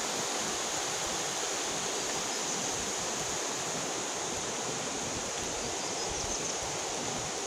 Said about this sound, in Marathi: नुसता पाण्याचा खळखळ वाहत आहे, थोडं जोरदार पाणी वाहत आहे झऱ्याचा